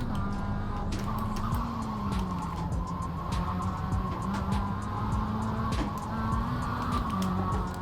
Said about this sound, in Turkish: ufaktan bir araba kaydı